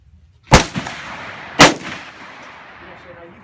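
Two sharp rifle shots ring out about a second apart at an outdoor shooting range, each a loud crack with a short echoing tail, followed by quiet ambient noise.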